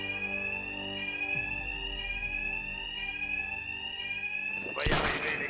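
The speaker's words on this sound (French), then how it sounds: "Le son de l'alarme couvrira le bruit de mes attaques." In Batman Arkham Knight, an alarm rings steadily and loudly for several seconds, then a sudden burst of noise cuts in near the end. No speech is heard.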